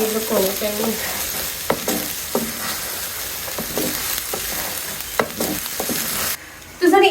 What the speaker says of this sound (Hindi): तो हूँ मैं शामिल करसा सब्जियां तो इन्हें की थोड़ा फ्राई करसा ताकि ये थोड़े नरम हो जाए